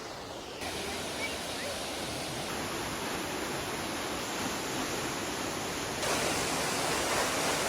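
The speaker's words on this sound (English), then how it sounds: "North Falls right behind me." Steady roar of North Falls, a waterfall on the Trail of Ten Falls at Silver Falls State Park, with continuous broadband rushing water that swells slightly louder near the end.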